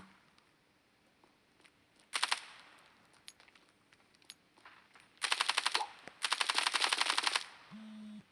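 Rifle fire from the mobile shooter game Standoff 2 comes in a short burst, then two longer rapid-fire bursts a few seconds later, fairly loud over quiet game ambience with scattered clicks.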